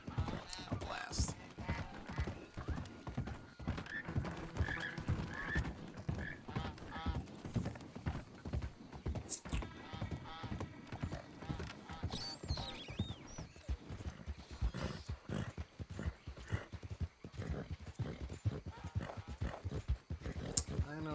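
Horse hooves clip-clop at a steady walking rhythm in a video game, a continuous even plod with occasional snorts and tack rattles under intermittent talking.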